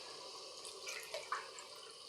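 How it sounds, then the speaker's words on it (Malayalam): Water poured into a cooking pot to thin a thick tamarind rasam, a faint continuous splashing pour with a few small drips and plops near the middle, heard alone. "അപ്പോൾ നമുക്ക് ഒരു ശകലം കൂടി വെള്ളം വയ്ക്കാം"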